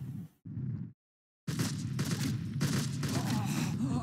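Gunfire in the video game Total Overdose, heard as dense bursts of rapid shots broken by a sudden silent gap and then sustained rattling fire, with a voice talking over it.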